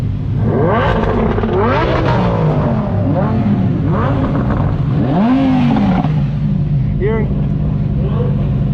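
Several Lamborghini Huracan Performantes rev hard with rising and falling engine wails and loud, continuous roaring close by. People talk over the engines.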